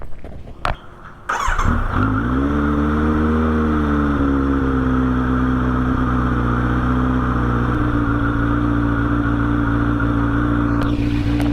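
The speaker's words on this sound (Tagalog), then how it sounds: "ito yung tunog niya with exhaust. Slip-on exhaust." Kawasaki Z900 motorcycle fitted with a slip-on exhaust, starting up after a few clicks and then idling loudly and steadily with a deep, throbbing note, no talking.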